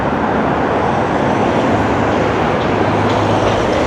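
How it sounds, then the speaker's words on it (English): Busy road with lots of traffic passing by, a loud continuous roar and rumble of vehicles without breaks, heard alone and close. "Lots and lots of traffic"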